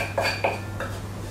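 A chocolate, caramel and peanut butter mixture being stirred in a bowl, with a few clinking scrapes of a utensil against the dish, close and moderately loud with no talking.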